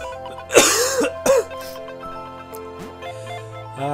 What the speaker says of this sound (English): I can't stop coughing